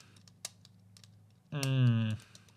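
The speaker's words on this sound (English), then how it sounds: "I'm clicking a pen." A pen is clicked a few times, with small, sharp, isolated clicks in a quiet room, followed by a short voiced sound.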